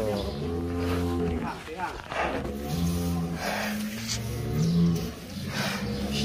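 Belgian Blue Cross cattle, very muscular beef animals weighing close to 900 kilograms, give several deep, drawn-out moos amid a busy farm or market setting, with people talking nearby.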